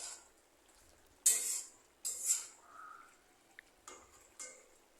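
A lid comes off a cooking pot of boiling snake gourd in a home kitchen, making a few sharp metallic clinks and scrapes with quiet gaps between them, close and alone.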